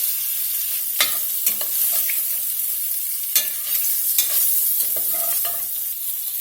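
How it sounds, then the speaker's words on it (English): Pork sausage browning in a pan over medium heat, with a loud steady sizzle up close and intermittent scraping, stirring knocks against the pan, and no talking. "we got the sausage browned up pretty good"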